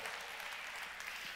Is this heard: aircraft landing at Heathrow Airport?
no